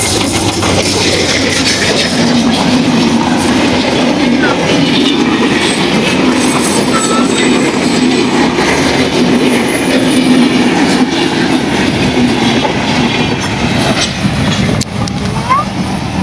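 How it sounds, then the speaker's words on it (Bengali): A train rolls past close by, a loud steady rumble with rhythmic clickety-clack of wheels over rail joints and occasional squeals, continuous throughout. "বন্ধুরা আমাদের ট্রেন চলে এলো"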